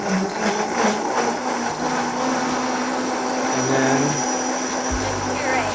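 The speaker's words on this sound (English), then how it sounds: "we're gonna take that right over here to our trusty Vitamix and puree it up" A Vitamix blender purees carrot peel soup, a steady whirring motor drone that runs the whole time with a shifting low hum as the speed changes.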